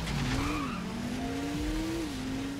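A Transformer in car form racing along in the Transformers: Revenge of the Fallen video game: a close, steady engine drone that rises and dips in pitch, with tire squeal and skidding layered over it.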